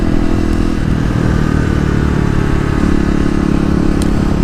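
A Kawasaki KLX250 motorcycle fitted with a new 13-tooth front sprocket is ridden through rush-hour traffic. Its engine gives a loud, continuous close-up drone with rattly mechanical texture and slight shifts in pitch.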